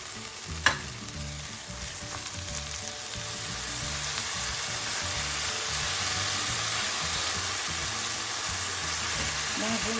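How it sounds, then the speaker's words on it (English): Tomatoes fry in a pan with tamarind for an eggplant and potato curry, giving a steady close sizzle that swells slightly partway through, with occasional stirring and one sharp utensil knock near the start. "Now tomato fry like this."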